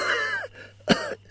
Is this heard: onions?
no